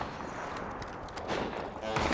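Gunfire in a first-person shooter video game sounds in rapid bursts of shots, fairly loud and dense, with talk running over it.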